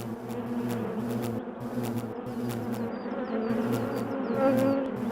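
Wild honeybees buzz steadily around their nest inside an old, centuries-old hollow tree on Jirisan, a dense continuous drone with the hum of many insects close by and no voices.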